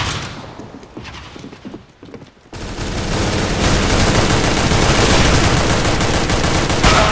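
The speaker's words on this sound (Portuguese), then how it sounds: "Descarreguei 30 munição nas costas do filho da puta e morreu." Counter-Strike: Global Offensive gunfire, dense rapid automatic bursts that grow loud and continuous after a quieter opening, a sustained harsh barrage of shots with no clear talk.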